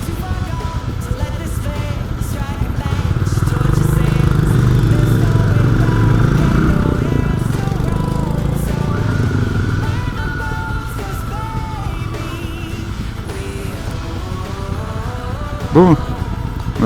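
A Royal Enfield Bear 650 motorcycle is ridden along a road, its engine a loud, close, steady drone that swells around the middle and then settles, with a voice talking over it near the end.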